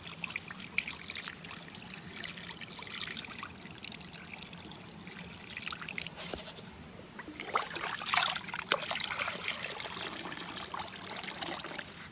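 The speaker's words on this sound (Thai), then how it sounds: "ผมไปล้างถุงนะ" Water pours and trickles steadily while a plastic bag is washed outdoors in the deep forest, a continuous close splashing stream with louder splashes midway.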